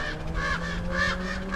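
Crows at a cemetery cawing several times in a loose, uneven series, fairly clear over faint background hum.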